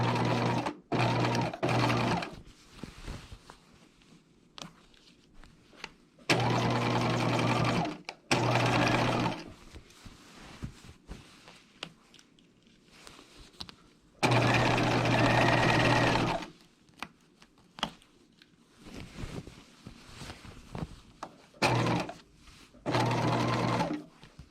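A sewing machine stitches the waistline and skirt seams of a dress in several loud, steady bursts of a few seconds each, separated by quiet pauses while pins are removed.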